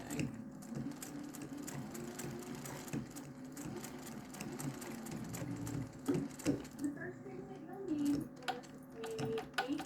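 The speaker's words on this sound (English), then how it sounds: "your sewing machine might not want to sew that" A sewing machine stitches through a thick mug rug with a steady fast needle patter, with a voice talking over it throughout.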